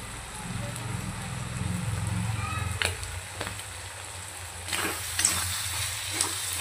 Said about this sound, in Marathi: यात आपण आधीच तेल टाकलं होतं म्हणून भरपूर तेल आहे, त्यामुळे आपण अशाच पद्धतीने अद्रक लसूण टाकून परतून घेऊया छान